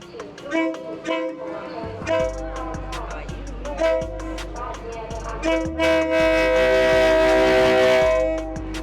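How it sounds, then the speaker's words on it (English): A train on the Maeklong Railway in Thailand rolls in slowly with rumbling wheels and a drawn-out horn toot, loud and near, while people talk over the noise. "we were actually quite surprised how slow the train came in"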